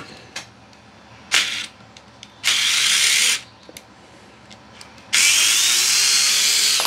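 Several short bursts of a Vessel cordless screwdriver whirring as it drives a screw into wood, each a few seconds long, with pauses between and the final, longest run loud and close.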